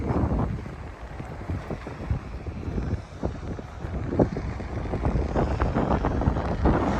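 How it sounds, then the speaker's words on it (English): Wind buffets the microphone in a steady, loud roar with gusty surges throughout a walk along a sandy Ramsgate beach on the Kent coast, with no talking. "I'm sure it sounds very windy on the video"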